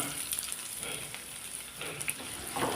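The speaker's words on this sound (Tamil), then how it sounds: "ஆயில் ஹீட் ஆனதும் கட் பண்ணின பச்சை மிளகாய் கறி லீஃப் சேர்த்து லைட்டாக ஃப்ரை பண்ணி" Sliced green chili and curry leaves fry in hot oil over a medium flame for a mutton brain masala, a close, steady sizzle with small crackling bursts and a stir or two.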